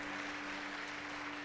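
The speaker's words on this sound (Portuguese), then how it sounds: "Se você crê nisso, aplauda o Senhor aí no seu lugar, amém?" A church congregation claps in a soft, diffuse wash of applause, faint and distant, with a steady hum beneath it.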